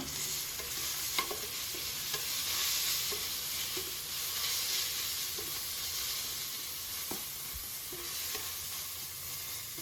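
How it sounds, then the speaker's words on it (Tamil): Onions with a little salt sauté in a pan for Ambur mutton biryani, giving a steady, even sizzle with occasional soft stirring scrapes and clinks throughout, no voices. "இதை பொன்னிறமா நம்ம வதக்கி எடுத்துக்கலாம்."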